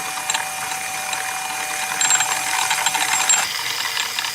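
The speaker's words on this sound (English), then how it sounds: "We've got the flywheel spinning counterclockwise." A flywheel spun counterclockwise by three-phase wire coils gives a continuous bright mechanical whir with a fine ratcheting texture, steady and close, briefly rising in intensity before settling.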